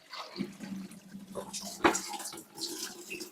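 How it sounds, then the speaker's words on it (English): Water poured into a basin drains down a newly installed waste pipe during a bucket test, a soft, close splashing trickle with small bursts. "We pour some water down the basin."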